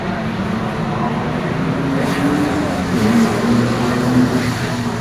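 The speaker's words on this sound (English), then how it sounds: "The 488 Corolla of Pierre Duplessis and of Heiner Duplessis." Toyota Corolla rally car on a rally stage, a steady engine roar that rises slightly in pitch as it passes, loud and close with a continuous road noise bed.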